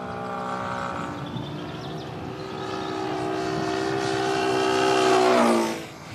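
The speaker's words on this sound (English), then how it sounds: "As it gets closer and then further away, the noise it makes changes" An engine approaches and passes close by, a steady harmonic drone swelling in loudness before its pitch sags downward and the sound drops away abruptly at the end.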